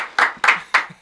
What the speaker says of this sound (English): Can we get a round of applause for the squad in the building?